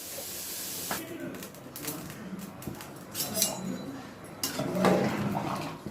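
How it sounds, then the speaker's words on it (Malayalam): Steam hisses out in uneven bursts from a pressure cooker after mutton curry has cooked through four whistles, close by in a home kitchen. Light clinks of utensils sound alongside. "ഇനി നന്നായിട്ട് ആവി പോണ വരെ വെയിറ്റ് ചെയ്യാം."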